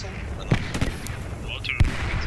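Gunfire rings out in the World War II shooter Post Scriptum, several sharp reports spaced irregularly over a quiet background, with some nearer and louder than others.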